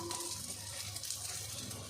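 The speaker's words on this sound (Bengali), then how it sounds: "এদিকে হচ্ছে এখন উচ্ছে ভাজা আর পটল ভাজা" Slices of bitter gourd and pointed gourd frying in a pan of oil in a home kitchen, giving a steady, close sizzle with no one talking.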